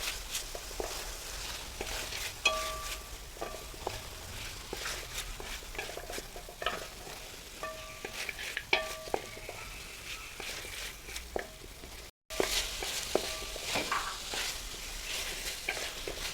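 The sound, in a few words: crushed ginger and garlic sautéed in a pan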